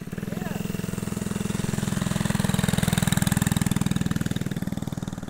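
A small mini bike engine idles close by with a steady fast putter that rises slightly and then settles, while voices talk briefly over it.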